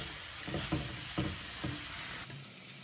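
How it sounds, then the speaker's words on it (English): Boiled broad beans sauté with bacon in a pan, a steady close sizzle with several soft stirring scrapes at regular intervals before the sound drops slightly at the end. "we're just going to allow it to saute and absorb all the goodness that the bacon is going to bring to this entire dish"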